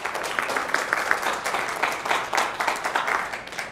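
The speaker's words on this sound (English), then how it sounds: "I like how they get a clap." An audience at a Pentecost church service claps, steady and fairly close, in a short burst of applause with no voices over it.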